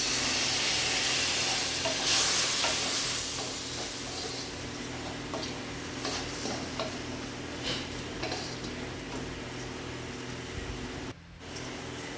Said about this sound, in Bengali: পেঁয়াজটা একটু খুব সামান্য তেল মানে জল দিয়ে কষাবো